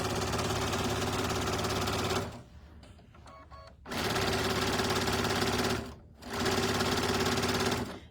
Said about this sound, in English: and then there's a Christmas one, which is what Kate's stitching up now